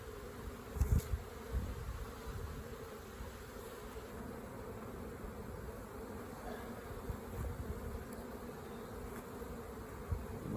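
Honey bees hum at a hive being prepared for the honey flow, a dense, continuous buzz of many insects close by with no talk.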